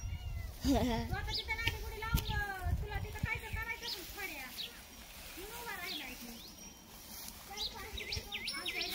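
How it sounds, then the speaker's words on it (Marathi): A cat meows repeatedly, rising and falling cries close by, while people talk over it and birds chirp faintly in the background. "तर मांजर आलंय."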